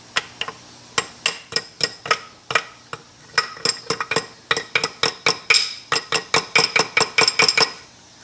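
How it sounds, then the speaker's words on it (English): Metal body hammer tapping a part while working on a Lauson DeLaval Type VW engine, a series of sharp, bright ringing strikes in quick irregular bursts, close and loud with no speech over them. "This body hammer will work."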